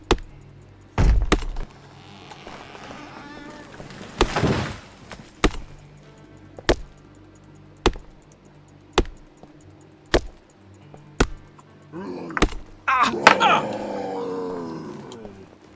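Wood is chopped in The Dead Linger video game, with sharp, evenly spaced thwacks about once a second against a quiet background, broken by a couple of growling, roaring outbursts.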